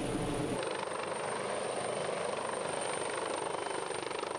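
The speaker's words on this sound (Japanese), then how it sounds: "この春レンジャー隊に選ばれた富樫隊員、先月実際にヘリコプターから救助する訓練が行われました" A helicopter hovers during a rescue training exercise for a ranger unit in Niigata, its steady rotor and engine roar loud and continuous with no voices.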